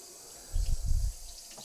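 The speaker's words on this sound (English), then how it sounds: "And then a good rinse. Again, so you don't want to splatter the water too much." Raw chicken is rinsed under a running kitchen tap, a short burst of splashing water that rises then fades against a quiet hiss.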